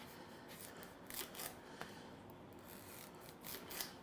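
Knife slicing a butternut squash into thin slices, producing soft, scraping cuts in a quick irregular series that sit at a quiet, close level with no talking.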